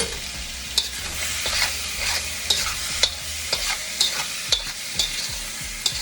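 Chicken sizzles steadily in a hot pan with garlic butter for fried rice, with repeated sharp scrapes and clacks from stirring cutting through the constant close frying hiss.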